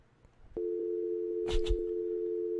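A telephone dial tone comes on after a call is hung up, a steady unbroken hum that holds to the end, briefly crossed by two soft handling clicks.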